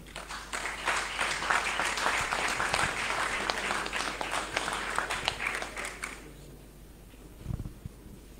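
A church congregation applauding at an assembly installing a new national coordination in Brazzaville, dense sustained clapping that fills the room for about six seconds before dropping away to near quiet with a couple of faint thumps.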